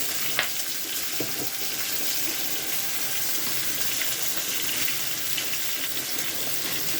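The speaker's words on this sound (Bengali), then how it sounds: "পেঁয়াজটা ভেজে তারপরে আমি টমেটো অফ করে পেঁয়াজটা ভেজে নেবো" Onion frying in a little oil produces a dense, even hiss that holds steady and close throughout, with a few faint clicks and no speech.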